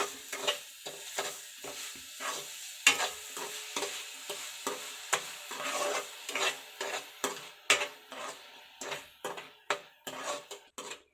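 A spoon works grated pumpkin and sugar around a pan for halwa, scraping in regular, rhythmic strokes about once a second, close up and clear with no talking.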